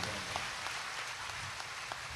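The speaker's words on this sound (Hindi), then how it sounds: "सब एक दूसरे के उत्साह वर्धन में तालियों की गड़गड़ाहट कर रहे हैं" Audience applause at an evening spiritual gathering around a temple-building pledge: a steady, dense wash of many hands clapping, even in level throughout, heard from a distance.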